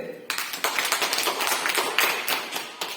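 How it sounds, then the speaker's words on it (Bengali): A group of children at a learning centre for poor and orphaned children claps together in a dense, lively burst of hand claps that runs for about three seconds. "ওদের একটা হাততালি দেন"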